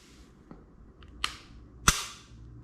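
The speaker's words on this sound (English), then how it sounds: "point in a safe direction and pull the trigger" A Glock 19 pistol dry-fired on an empty chamber, giving a few small mechanical clicks followed by a sharp, close trigger snap, with faint handling noise around them.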